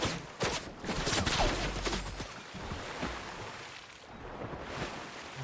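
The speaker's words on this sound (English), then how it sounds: "They're shooting at me from, like, really far away, I think." Bursts of gunfire from distant shooters in a video game, a loose run of sharp cracks and pops over a washing water-like background, fairly loud with no talk.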